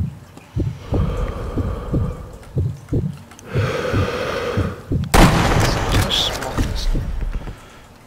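Sniper Elite 2 deathmatch gunfire booms in a series of heavy, thumping shots, followed by a louder, sharp blast near the end, with players' voices chatting over the game sounds.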